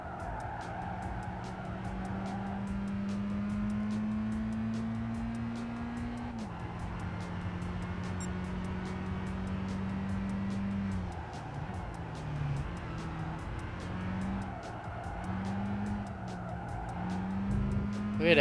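A Mazda Roadster races in Gran Turismo 5, its engine droning steadily and shifting pitch through gear changes, with repeated tire squeals and skids at corners, loud and continuous for the whole stretch.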